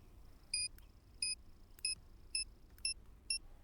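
A C4 explosive timer in a video game beeps six times at an even, roughly half-second pace, each a short, clear electronic tone over a quiet background.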